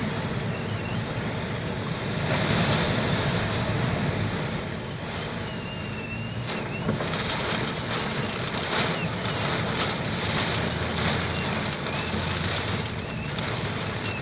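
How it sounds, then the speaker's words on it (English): Strong high wind outdoors near Breslau, Ontario gusts in a constant broad rumble and rush, with buffeting swells and faint higher chirps in the background, no talking. "That's blow over tractor trailer wind."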